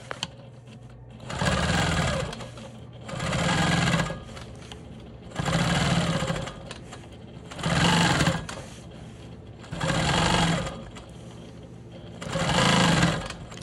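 A sewing machine quilting a star quilt block runs in six steady, even bursts of rapid stitching, each about a second long with brief pauses between, close by and with no talking.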